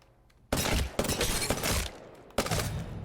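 Prowler gunfire in the console video game Apex Legends: three loud bursts of rapid shots, close and punchy, separated by brief pauses, with no talking.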